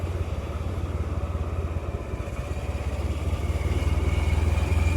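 A motorcycle or small vehicle idles and creeps along below a building while being parked, its engine a steady low throbbing rumble close by that swells slightly toward the end.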